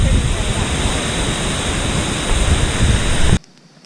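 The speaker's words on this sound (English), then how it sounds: "Hot tub and a waterfall." Steady, loud rushing roar of a waterfall in Bechler Canyon, Yellowstone, with a broad constant wash of falling water that cuts off abruptly near the end.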